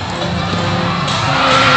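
Dense arena crowd noise at a La Salle versus Rain or Shine basketball game, a sustained roar of cheering and shouts that swells slightly toward the end.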